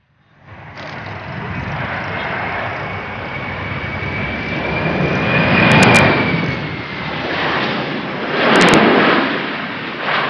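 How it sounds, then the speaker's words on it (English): A Boeing C-17 military transport airlifter comes in for a very short landing at an air show, its jet engines roaring loudly and building to peaks, with a whining tone carried throughout. "the crew will demonstrate the very short landing distance of this steadfast airlifter, using just over 450 meters of runway"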